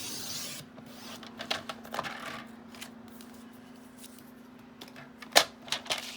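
Paper being cut with scissors for a mini album, soft rustles and a series of crisp snips, close and quiet over a faint steady hum.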